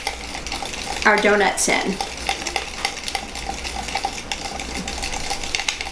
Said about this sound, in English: I'm going to go ahead and whisk this together here